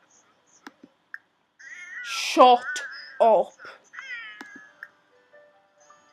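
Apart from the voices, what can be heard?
cat meowing in video game Sims 4 Cats and Dogs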